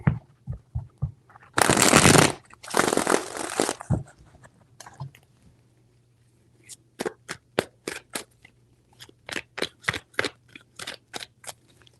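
Tarot cards shuffled by hand in a reading: two long loud riffling bursts near the start, then a steady run of short crisp snaps and taps, close and clear with no talk over them.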